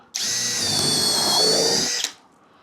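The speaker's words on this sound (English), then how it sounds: "So let's get it on to drill, and let's" A cheap brushless drill driver bores into a piece of wood with a new bit, giving one steady, loud, high-pitched whine of about two seconds that starts abruptly and cuts off sharply, with no voices.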